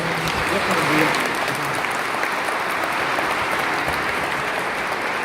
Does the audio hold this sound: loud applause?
yes